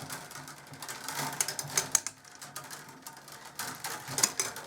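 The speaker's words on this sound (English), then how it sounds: "That is the noise of the weavers clashing against the camera." Busy, irregular mechanical clattering and rattling of basket-weaving weavers clashing against the camera, close by, with sharp clicky peaks scattered throughout.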